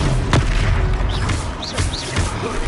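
An Expelliarmus spell in Hogwarts Legacy bursts in a loud, booming blast, with short rising whooshes and thuds of magic following close by.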